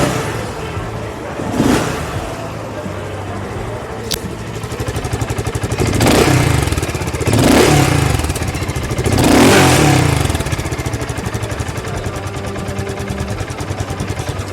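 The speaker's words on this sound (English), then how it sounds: "Interested to know what the BSA Gold Star 650 sounds like?" A BSA Gold Star 650 motorcycle with a 652cc single-cylinder engine idles with a steady thump and is revved three times in separate swelling bursts, loud and close, without talking.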